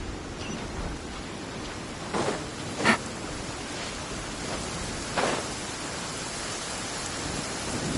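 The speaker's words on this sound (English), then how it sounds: "It's raining again?" Steady rain falls in a video game, a dense, even hiss that runs the whole time, with a few brief louder swells rising out of it.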